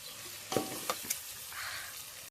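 Rice and water cooking together for khichdi in a pot, a soft steady bubbling hiss with a few brief clinks or taps, close and quiet, with no speech.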